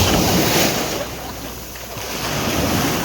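Ocean waves at a Zambales beach resort in San Antonio wash steadily onto the shore as a broad, continuous surf roar, loud and close, with some wind buffeting the microphone and no talking.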